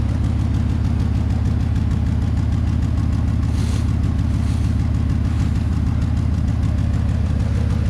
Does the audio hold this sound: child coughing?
no